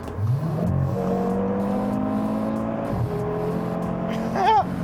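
An Audi 8Y RS3 floored on a highway to pass another car: a loud, steady engine roar climbs in pitch, drops briefly at a shift around three seconds, then pulls up again. A short high chirp comes near the end.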